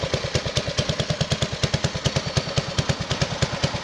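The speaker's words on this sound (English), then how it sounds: "Doesn't idle too bad" A 1968 Bolens EK-10 Estate Keeper garden tractor engine idling slightly rich with the choke off, a steady rapid chugging pulse, close and loud, with no voices.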